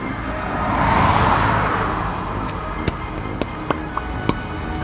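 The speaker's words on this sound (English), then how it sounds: "Couple cars coming." Cars pass on a road, one swelling up loudly and fading as it goes by, followed by fainter traffic with several sharp clicks and taps near the end.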